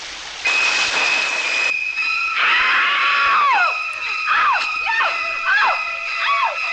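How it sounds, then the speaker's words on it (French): A woman's high scream layered with a shrieking, screeching violin as a horror jump-scare sound effect, loud and alone, with sliding, wailing pitch swoops recurring over several seconds. "pour ajouter au cri de la femme, on ajoute le violon qui crie"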